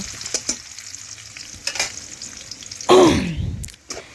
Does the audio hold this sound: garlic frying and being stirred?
yes